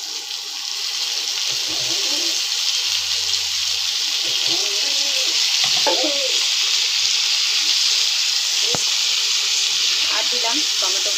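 Potato curry frying in a pan with salt, ginger paste and chopped tomato added, a steady close hiss and sizzle running throughout with occasional stirring clinks.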